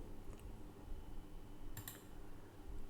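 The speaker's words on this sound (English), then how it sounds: "Keyboard. Keyboard." Quiet, close-up typing on a computer keyboard, scattered key clicks with a brief quick burst of taps partway through.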